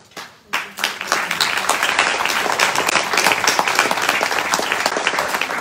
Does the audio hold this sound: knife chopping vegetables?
no